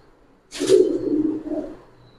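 A single low, throaty coo from a pigeon kept in a fancy-breed collection of Giribaj, military and silver birds, close and soft and lasting under two seconds in an otherwise quiet space.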